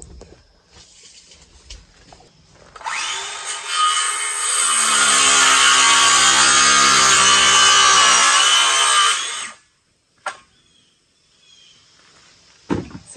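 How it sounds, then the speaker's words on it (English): A power saw spins up and cuts through a 2x4 board for several seconds, a loud high whine, then winds down, followed by clunks of wood being handled. "cutting 2x4s for the frame"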